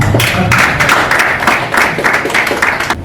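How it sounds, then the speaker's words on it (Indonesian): An audience at a diaspora forum with an MPR deputy chairman applauds in a loud, continuous round of many hands clapping, heard close with rhythmic surges throughout. "Kita berikan tepuk tangan dulu buat yang"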